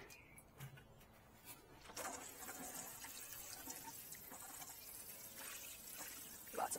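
Water poured from a watering can onto a potted plant, a soft continuous trickle and splash that swells after the first couple of seconds and stays steady, quiet and close, with faint background noise.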